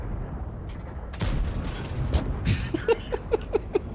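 Tank cannon fire from the American premium XM66F in World of Tanks, with heavy booming blasts over a low rumble, then a quicker string of sharper, evenly spaced shots toward the end.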